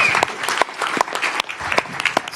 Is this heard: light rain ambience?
no